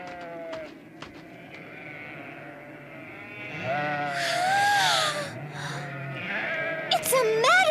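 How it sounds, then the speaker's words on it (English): Sheep bleat in wavering calls in a meadow, one after another, with voices talking over and around them; the bleats rise loud in the middle and again near the end. "And just look at all the fluffy sheep!"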